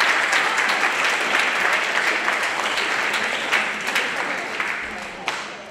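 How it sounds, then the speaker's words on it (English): Audience in an auditorium at a spring band concert applauding the students' parents, a loud, full, sustained burst of clapping that stays steady throughout and tapers slightly near the end. "So students, please give your parents a round of applause for being amazing."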